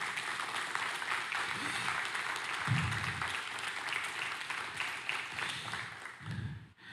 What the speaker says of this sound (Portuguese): Aplauda o Senhor, irmão.